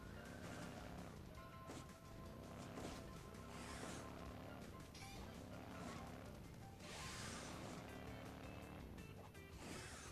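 A Lowrider car drives in the mobile game Hill Climb Racing 2, its engine rising and falling in repeated rev cycles with occasional whooshes and thumps, quiet and continuous.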